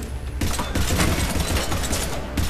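Rapid pistol fire in the Mass Effect 3 video game on PC, a dense run of sharp shots cracking close and loud over a busy battle din, with no talk.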